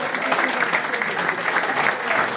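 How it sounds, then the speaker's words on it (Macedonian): Dense, steady applause from an audience at a reunion evening for footballers of FK Teteks, honoring Mirko Petrov, filling the whole stretch at an even, fairly loud level. "Уште еден аплауз за Мирко Петров."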